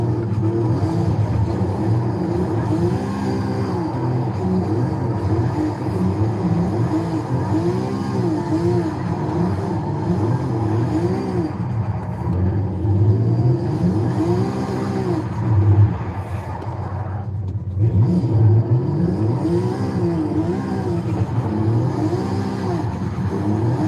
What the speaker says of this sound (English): this thing has got a beautiful turbo noise